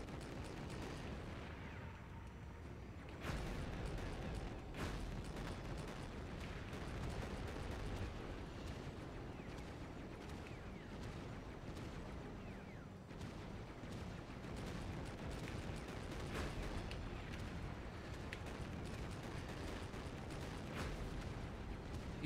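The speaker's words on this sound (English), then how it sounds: "I do wish the explosion radius on it was a little bit bigger" Repeated explosions and gunfire in the Mecha Knights Nightmare video game form a dense, continuous rumble of blasts with sharper bursts scattered throughout.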